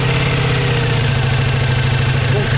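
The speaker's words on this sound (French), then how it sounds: "au ralenti, il a une sonorité qui est présente, qui est assez sympa" A Ducati Multistrada V4S V4 engine idles steadily and loudly up close, a continuous deep throbbing rumble with a fast, even pulse and no talking.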